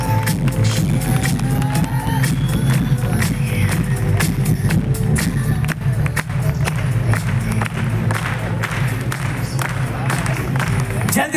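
An audience at a Safe Shop event claps for a newly promoted diamond member, with sharp scattered claps and crowd noise running beneath loud talking.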